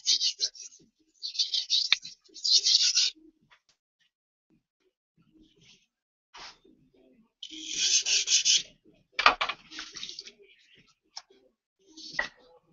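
A blade is drawn across a 1,000 grit whetstone in several separate rasping strokes, short scraping bursts with quiet gaps between them, fairly close and soft.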